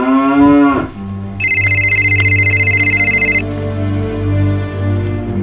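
A phone's electronic ringtone sounds as a bright, steady tone for about two seconds, following a deep, bellowing moo-like sound at the start, with a low hum continuing underneath throughout.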